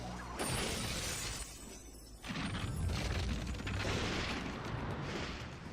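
In the video game Spyro A Hero's Tail, a dark gem smashes through ice with a sustained, loud crashing shatter that dips briefly and then surges again, continuing as a dense wash of breaking debris.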